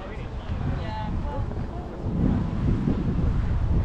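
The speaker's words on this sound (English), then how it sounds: "It's quite breezy here as well." Outdoor breeze buffeting a microphone in a windy open spot near a beach volleyball area, a loud rumbling roar that swells in the second half, with faint voices under it.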